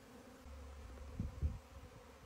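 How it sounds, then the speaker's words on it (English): A swarm of honey bees buzzes in a garden shrub, a faint, steady low hum with a few slightly louder close passes, heard alone without talk. "My bees are swarming. And you can see them up in this shrub."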